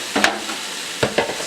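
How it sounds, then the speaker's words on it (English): A burger patty sizzles in a frying pan, a steady hiss broken by a few short scraping stirs, close and alone with no talking. "we're just going to place it in our pan right there"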